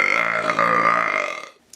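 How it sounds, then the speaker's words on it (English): A single long, loud burp rumbles on for about a second and a half, then tails off into silence with a faint click at the end. "remind us of just how useful of a thing a burp can be"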